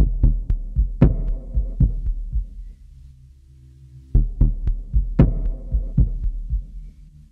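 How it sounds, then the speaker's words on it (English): A heartbeat sample from the Ashlight composer sound library: deep, close double thumps in a steady pulse, briefly dropping away mid-clip before resuming as loud as before, with no other sounds. "Then I found this crazy cool sounding kind of heartbeat sound."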